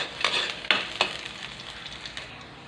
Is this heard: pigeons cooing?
no